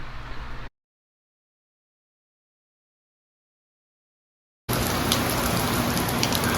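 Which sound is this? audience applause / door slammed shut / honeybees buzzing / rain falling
rain falling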